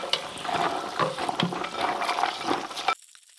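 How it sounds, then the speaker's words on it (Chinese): Tea-flower mushrooms are rinsed under running tap water in a kitchen: a steady splashing stream for about three seconds that then cuts off abruptly. "首先先用清水洗一洗佢先。"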